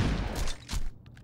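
Shotgun blasts in Saints Row 2, two or three loud booming shots in quick succession with a clipped tail, close and up front, no voices over them.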